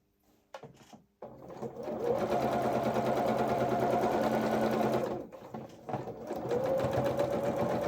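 Sewing machine reverse stitching over elastic along the leg seam of small coveralls, a close steady mechanical whir that runs for several seconds, pauses briefly, then resumes, with a few short starts at the beginning.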